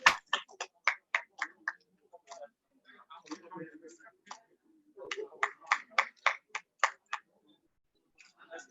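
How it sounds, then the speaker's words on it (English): Clapping and applause break out at a branch annual general meeting, in two bursts of sharp, spaced claps across the room, with some talk in between. "A round of applause for him, please."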